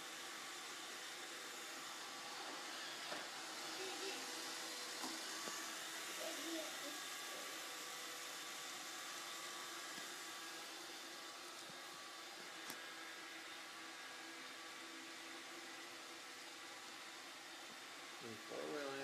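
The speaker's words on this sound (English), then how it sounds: "Oh, here comes the vacuum." A robot vacuum cleaner runs with a steady whirring hiss throughout, its motor drone holding at an even level with faint clicks and soft bumps mixed in.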